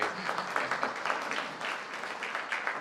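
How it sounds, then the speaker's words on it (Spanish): Applause from a seminar audience after a presentation, a short, fairly faint burst of clapping with a loose, uneven rhythm throughout. "¿Aplausos para Alonso?"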